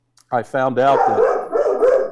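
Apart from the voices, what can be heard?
dogs barking in the country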